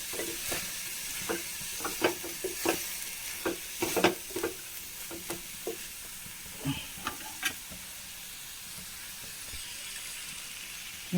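Green beans stir-frying in a pan for payar upperi, with a steady sizzle broken by repeated sharp scrapes and clacks of stirring, fairly close and moderately loud, no voices.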